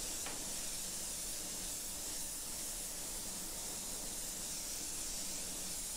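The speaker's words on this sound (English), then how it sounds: "Just two or three light coats is all I need for complete coverage." Spray paint hisses out in light coats as a panel is finished, a steady, even broadband spray held continuously without pauses and with no voices.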